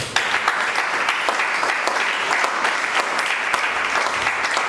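A church congregation applauds to acclaim the Lord, dense steady clapping from many hands filling the whole stretch at moderate loudness, with a few faint voices underneath.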